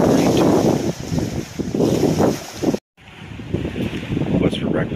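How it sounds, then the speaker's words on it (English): Wind gusting at a lakeside campsite in Voyageurs National Park, roaring and buffeting the microphone in loud, uneven bursts with a brief dropout in the middle. "Little bit of a windy one last night. Still this morning too."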